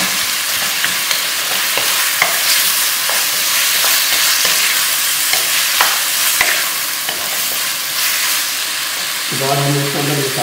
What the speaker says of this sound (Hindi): इसमें आधा किलो कीमा ये शामिल करेंगे। अच्छी तरह भूनेंगे